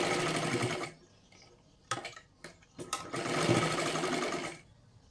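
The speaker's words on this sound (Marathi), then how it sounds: "त्याच्यावरती पण आपल्याला डबल शिलाई मारून घ्यायची आहे." A sewing machine runs in two long steady bursts, with a few short stitching spurts between them, as it double-stitches the seam of a three-piece princess blouse. The whirring is close and loud, and no one speaks.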